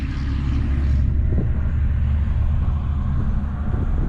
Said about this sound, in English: We got a log truck and a dump truck meeting each other.